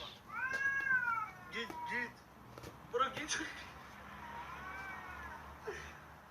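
A cat meows several times at close range, drawn-out and wavering, with short sharper mews in between over quiet background noise.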